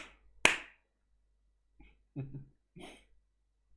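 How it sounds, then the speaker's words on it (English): A single sharp hand clap rings out near and loud, followed by a couple of soft, brief vocal sounds rather than a second clear clap, in an otherwise quiet room. "Oh wait, that was 2 claps."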